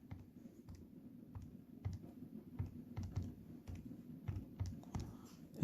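Rapid plastic key presses on a calculator keypad while entering a math calculation, a steady run of soft close clicks with no talking.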